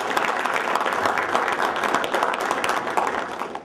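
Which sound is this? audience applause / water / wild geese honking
audience applause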